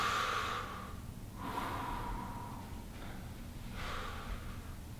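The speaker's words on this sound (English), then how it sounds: "Breathe right into that hand." Slow, deep breaths drawn in and pushed out into a cupped hand during a fascial self-care exercise, three soft, airy breath cycles, close and quiet.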